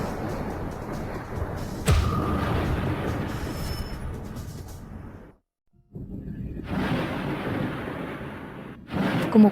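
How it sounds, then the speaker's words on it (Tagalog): Deep thunder rumbling during a rainy spell, a long low roll with a sharp crack near the start, then a sudden brief silence before the rumble swells back and carries on. "Kumukulog."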